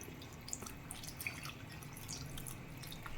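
Salted bitter gourd pieces are rinsed in water in a kitchen, giving soft, faint drips and light splashes with small trickling sounds, quiet and close with no talking.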